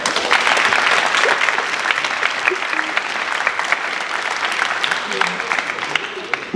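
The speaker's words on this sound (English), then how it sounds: "give yourself a round of applause." Graduation audience at a charter high school ceremony breaking into sustained applause, a dense loud wash of clapping that holds steady throughout.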